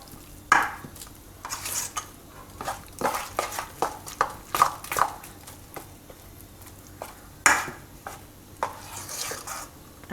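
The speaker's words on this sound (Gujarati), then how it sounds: "મિક્સ કરતું જવાનું." Ripe mango pakoda batter being stirred by hand in a bowl, with soft wet squelches and irregular clicks of a spoon against the side, fairly close and without talk.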